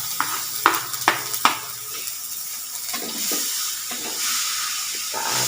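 Oncom with spring onions stirred in a hot pan for Sundanese sweet-spicy sambal, a steady loud sizzle broken by several sharp scraping knocks of the spatula early on, then softer stirring scrapes.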